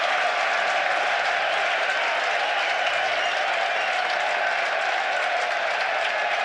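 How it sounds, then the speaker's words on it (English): A football crowd at a Norwich versus Burnley match lets out ironic cheers and applause, a steady broad roar of clapping and voices that holds at an even level throughout. "Ironic cheers from the crowd"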